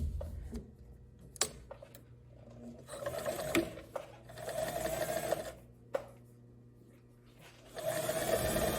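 A sewing machine stitches a curved seam on a woven wide-leg pant in several short bursts of whirring. Brief pauses and handling knocks separate the runs.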